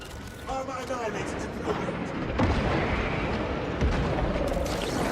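Grenade blasts and gunfire in Warhammer 40K: Space Marine 2 go off amid combat, with several heavy thuds and booms over a dense battle din while a voice speaks.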